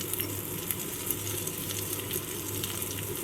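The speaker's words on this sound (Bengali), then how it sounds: "এবারে দিয়ে দিলাম একটু চিংড়ি মাছের কুচি দিয়ে দিলাম এর মধ্যে" Chopped shrimp frying in a pan while cooking shrimp cutlets, a steady close sizzle with light crackling that runs unbroken throughout, no talking.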